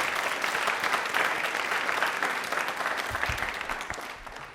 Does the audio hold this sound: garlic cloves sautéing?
no